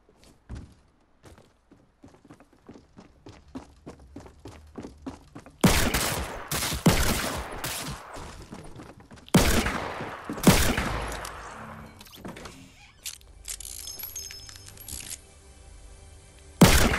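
Heavy shotgun blasts in a video game: a few loud, close booms with long decaying tails, preceded by quick soft footstep-like taps and followed by clattering game effects.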